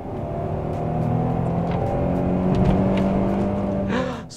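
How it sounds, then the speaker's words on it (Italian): A Peugeot 3.0-litre naturally aspirated petrol V6 revs up, its engine note rising and climbing under steady road and wind noise heard from inside the car, loud and close throughout. "3000 V6 aspirato a benzina."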